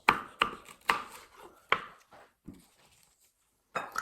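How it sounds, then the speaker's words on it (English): Knife chopping food on a cutting board in a home kitchen: a handful of crisp, close, separate chops at an uneven pace, then a pause and one last chop, with no voice over it. "That's how a chop sounds."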